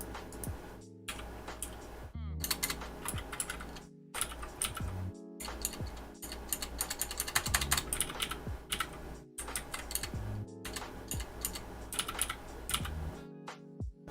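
Rapid keystrokes clatter on a computer keyboard in dense, uneven bursts broken by brief silent gaps, close and clear with no speech.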